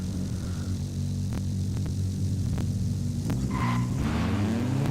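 A 300HP Acura Integra Type R accelerating up a track: a steady engine drone that climbs in pitch toward the end as the car pulls away, heard alone without talk.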